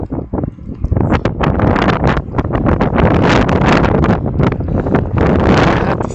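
Wind gusts across an outdoor microphone in a steady, loud rushing roar that swells and buffets for several seconds with no voices.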